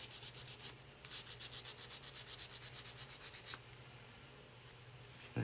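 Hand sanding painted letters off a wooden sign, a quick series of close, rhythmic scratchy strokes that stop partway through, followed by quieter room noise.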